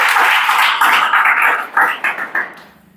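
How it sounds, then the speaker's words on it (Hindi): Brief round of applause from a group, dense clapping at first that thins into a few scattered claps and fades out. "ताली बजा दो दंडकारण्य के लिए"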